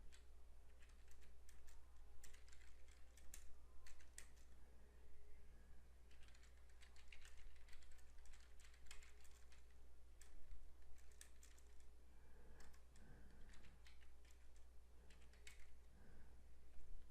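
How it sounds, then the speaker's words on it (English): Fingers tap out a command on a computer keyboard in a quiet room, quick irregular clicks in bursts with short pauses, faint and close over a low steady hum. "So now we can type our command."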